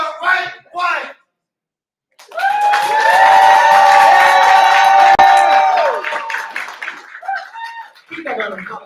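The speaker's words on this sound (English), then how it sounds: "Keep that round of applause" An audience at a poetry slam cheers and whoops loudly for several seconds after a performance, with a sustained crowd roar and high shouts, and short bursts of voices before and after.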